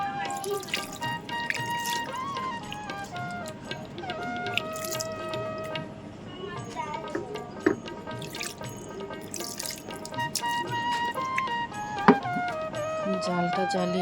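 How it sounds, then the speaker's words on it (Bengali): Water is poured lightly into a pan of spiced small river fish (mola) for curry, giving soft trickling and dripping splashes amid faint clinks, with a person talking nearby. "এখন পানি দিয়ে দিব হালকা।"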